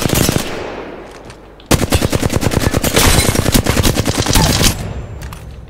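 Rapid automatic weapon fire from Apex Legends, a brief burst then a sustained loud rattling stream of shots lasting about three seconds before trailing off.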